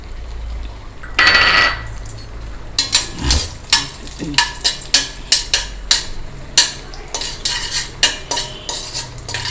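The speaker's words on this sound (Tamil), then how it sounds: "முந்திரி பருப்பு வறுபடட்டும்." Cashew nuts roasting in ghee in a pan while a metal spoon stirs and scrapes them in steady, repeated clinking strokes, with a soft sizzle underneath and a clattering burst near the start.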